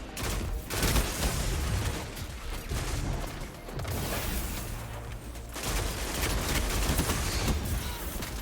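Gunfire from a steady-firing gun in a video game rattles on continuously in dense bursts, loud and close, with only a few short dips in the barrage and no talk over it.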